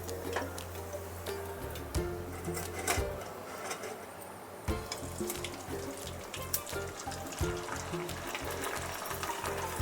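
Rice flour vadiyalu, onion and wheel-shaped, fry in hot oil over medium heat, giving a steady soft sizzle scattered with faint ticks and crackles.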